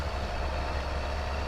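A low, steady engine rumble from a truck in Farming Simulator 22 idles or runs evenly at a moderate level, with no voices over it.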